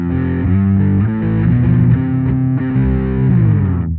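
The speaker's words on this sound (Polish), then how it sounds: "Mamy maksymalne przesterowanie kanału przesterowanego i ciągle on ma bardzo dużo basu." Bass guitar played through a Fender Super Bassman tube amp with its overdrive channel at maximum, giving a loud, heavily distorted, bass-rich riff of sustained fuzzy notes that changes pitch steadily before cutting off near the end.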